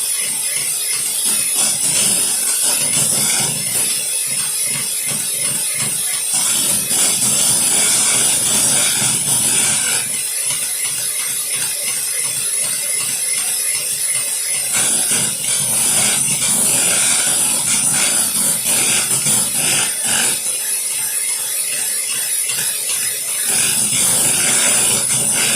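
Egg whites being whipped in a small saucepan for chocolate mousse, a steady loud whirring and rattling of beaters against metal that continues throughout with brief changes in intensity.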